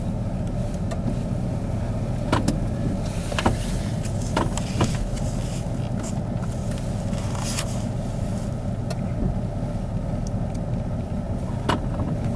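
4x4 vehicle in four-wheel-drive high rolling along an icy winter logging road, giving a steady loud rumble and road roar throughout, with a few faint cracks and crunches on top and no talking.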